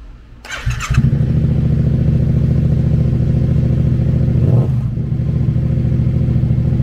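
A 2016 Yamaha FZ-07 motorcycle with a 698cc parallel-twin engine fires up with a brief clatter, then holds a loud, steady, throbbing idle close by, with a slight rev swell near the end.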